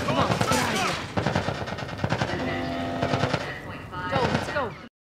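Rapid automatic gunfire in a video game, dense bursts of machine-gun shots with shouting voices over them, loud and close, continuing almost without pause for several seconds.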